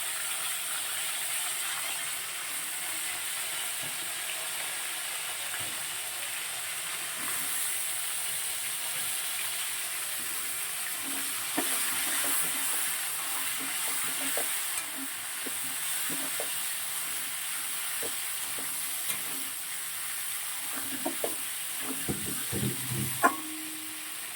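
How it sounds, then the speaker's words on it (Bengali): Cauliflower fries in the hot oil left in a pan after frying katla fish. A soft, continuous sizzle runs throughout, with scattered clinks and scrapes of stirring that grow busier toward the end, and no voices. "এবারে যে তেলটা আছে ওটা ফুলকপিগুলো দিয়ে ভেজে তুলে নেবো"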